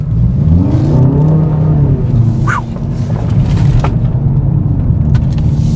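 A 2019 Hyundai Veloster Turbo in sport mode accelerates hard, its engine note climbing through a gear with a brief dip at a shift, then pulling on again loud and close from inside the cabin.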